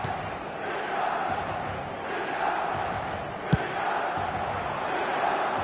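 Stadium crowd in the eFootball video game during a match: a steady, dense roar of many voices filling the whole stretch, with one sharp click partway through.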